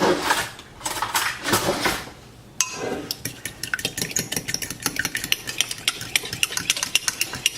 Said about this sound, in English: So give it a good whisk.